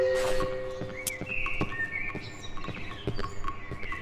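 Birds chirp in the Cry of Fear horror video game, giving scattered short tweets and whistled calls over a quiet ambient background, with a few soft taps mixed in.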